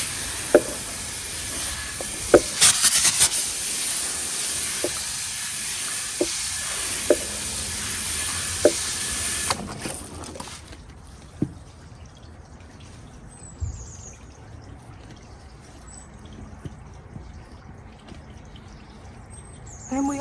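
Water is poured from a hose onto the soil around a newly planted shrub, giving a steady hissing splash with a few sharp knocks for about ten seconds, then it stops and only quiet outdoor background remains.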